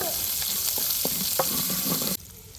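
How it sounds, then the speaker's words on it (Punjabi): Green chillies fry with ginger and garlic in a pan for turnip greens saag, a close crackling sizzle with a few stirring scrapes before the sound cuts off suddenly. "ਹੁਣ ਇਹਦੇ ਵਿੱਚ ਪਾਵਾਂਗੇ ਹਰੀਆਂ ਮਿਰਚਾਂ ਇਹਨਾਂ ਨੂੰ ਵੀ ਥੋੜਾ ਜਿਹਾ ਭੁੰਨ ਲਾਂਗੇ"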